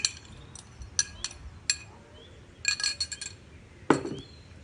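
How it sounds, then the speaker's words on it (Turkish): A utensil clinks sharply against a glass bowl while vinegar, oil and egg are mixed, giving a string of irregular close taps with quiet gaps between them. "Önce sıvı olan malzemelerimizi karıştırıyorum. Sirkemizi, sıvı yağımızı, yumurtamızı."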